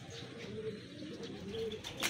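Racing pigeons at a loft during a race, soft cooing close by over a low murmur of the surroundings, with faint chirps near the end.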